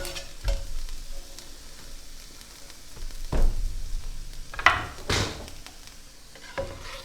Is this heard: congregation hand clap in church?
no